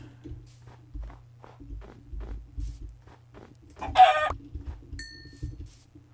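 A chicken clucks in a short burst amid soft footsteps in Minecraft, with a brief chirpy squawk standing out midway against quiet game ambience.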